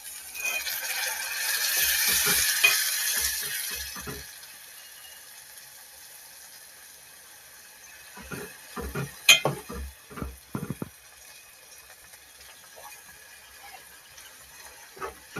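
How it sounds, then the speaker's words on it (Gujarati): Half a glass of water added to a tindora (ivy gourd) gravy curry simmering in a pan: a few seconds of rushing, hissing pour, then a quiet simmer with scattered clicks and light scraping. "હવે થોડુંક આપણે પાણી એડ કરી દઈએ આમાં."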